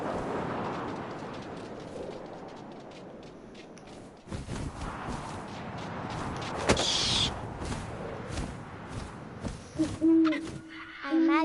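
An owl hoots against a windy outdoor bed, a few soft low calls with scattered thumps and rustles around them, fairly distant and even.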